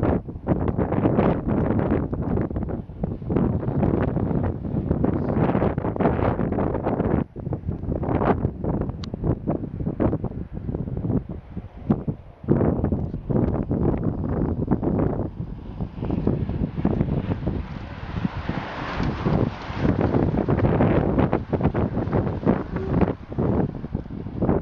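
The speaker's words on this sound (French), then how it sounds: "on a vraiment un vent violent" Strong, violent wind blowing outdoors at a running race, buffeting the microphone with continuous loud roaring gusts throughout, swelling into a hissing rush near the end.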